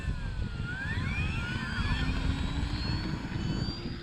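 An FMS P-40B radio-controlled warbird with an electric motor, running steadily with a high whine and pitch sweeps from passing props, over a constant low rumble of wind and outdoor noise.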